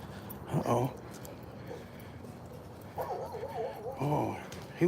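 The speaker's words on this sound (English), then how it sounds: "Oh, he wants to bark at my Toby" A small dog barks at another dog indoors, giving a short burst of yaps near the start and more excited barking and whining later, over background room noise.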